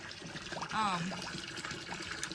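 Water trickles and splashes into a livestock trough on a bitterly cold farm at -20°F, a steady light pour with a person talking over it.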